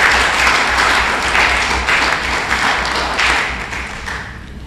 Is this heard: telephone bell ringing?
no